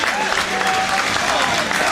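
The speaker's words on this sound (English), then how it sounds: "the travelling Poolies, all 132 of them, applaud their players off the pitch" Travelling Hartlepool United fans applaud their players off the pitch after an away match at Aldershot Town, sustained clapping from a crowd with background crowd noise and a commentator's voice over it.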